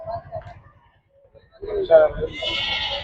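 Goats bleat close by at the Chillakallu sheep and goat market, amid outdoor chatter and a lively market murmur, with people talking over the animal calls.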